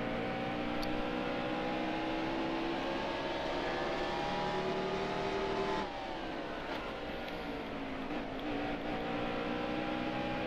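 Stock car engines in the NASCAR Heat Evolution video game during the Toyota Owners 400, a loud sustained high-revving drone with shifting pitch and a brief dip midway, steady and close.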